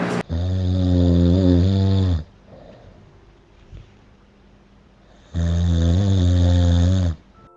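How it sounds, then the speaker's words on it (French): A man snores loudly in a capsule hotel in Tokyo, two long, deep rumbling inhalations close to the microphone, separated by a quieter pause of soft breathing and faint room noise. "je suis un mec qui ronfle, et qui ronfle plutôt fort"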